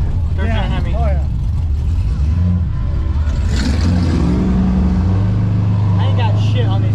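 A Hemi-engined Mopar car at a Mopar Nationals car show drives past with a deep engine rumble that swells and rises in pitch, loud toward the end. People talk nearby throughout.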